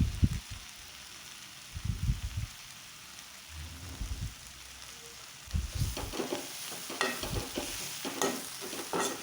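Sandwich filling seasoned with garam masala and salt is stirred in a pan, with bursts of scraping and stirring in the first half giving way to steady sizzling and crackling, close and moderately loud.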